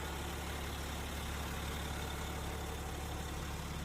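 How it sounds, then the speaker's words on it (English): A 2017 BMW X5 xDrive35d 3-liter diesel SUV engine idles in snow, a steady, quiet hum continuing with a soft, even drone and no talking. "The engine's pretty quiet."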